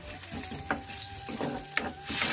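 Soft sizzling in a pan with a few stirring clacks and scrapes, fairly quiet and close, with a low hum underneath.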